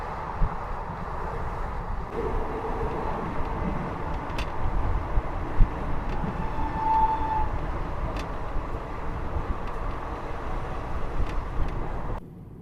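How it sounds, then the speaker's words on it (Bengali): A night passenger train on the Sealdah–Lalgola line running at speed, heard from on board as a steady, fairly loud rumble of wheels and carriage noise with a few brief clicks, and no talk. "ট্রেন কিন্তু বেশ ভালো স্পিডে টানছে"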